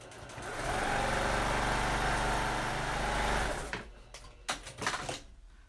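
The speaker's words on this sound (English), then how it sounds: "I'm going to take this to the machine and just top stitch at 1/2 inch" A sewing machine runs steadily for a few seconds, top stitching a folded pocket hem, then stops, leaving a handful of short handling clicks and rustles close by.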